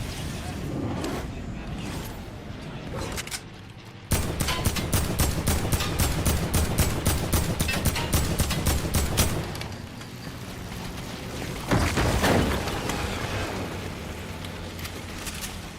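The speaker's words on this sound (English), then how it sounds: "I'm gonna shoot her too." Rapid gunfire from a shooter video game rattles in dense repeated bursts, loud and close, with a short pause and another burst later, mixed with game sound and some voices.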